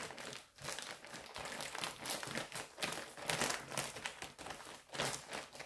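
A plastic grow bag for lion's mane mushrooms being folded, with close, quiet crinkling and crumpling in irregular bursts throughout.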